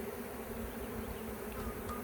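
Honey bees buzz steadily around a hive frame during a swarm cell split inspection, a dense continuous drone close by with no talking.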